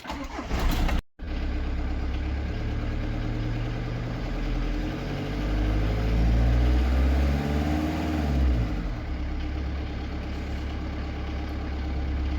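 A 2001 VW T4 1.9 TD diesel starts with a short cranking burst after a moment's pause. It settles into a loud, rough idle, then revs up and falls back while the turbo spools and whistles.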